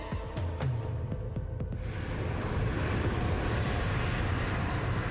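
A Boeing 747 jet airliner in flight over the Pacific gives off a steady, continuous engine roar that fills the whole stretch, with a few faint clicks near the start and no voices.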